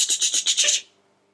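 A voice imitates an old-fashioned lawn sprinkler with about six rapid, hissy bursts in a steady pulsing rhythm, close and fairly loud, then cuts off into near silence.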